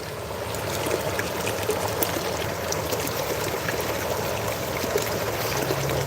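Creek water at McMillian Creek flows and trickles around feet wading upstream in boots, a steady close rushing babble with small splashes scattered throughout.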